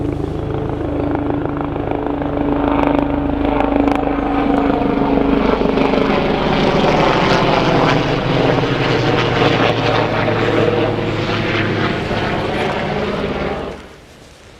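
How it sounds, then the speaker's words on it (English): Helicopters fly low over Stanley Park, a loud continuous rotor and engine roar that holds steady for many seconds before cutting off abruptly at the end. "And those helicopters are loud."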